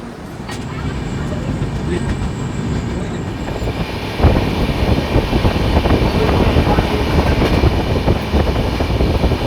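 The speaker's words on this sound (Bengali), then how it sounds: "ট্রেন কিন্তু একদম এক্স্যাক্ট টাইম 11:40 কিন্তু ছেড়ে দিয়েছে" A night train pulling away from a station platform, bound for NJP: a loud, close rolling rumble of wheels and carriages that grows heavier midway, with faint high squeals above it.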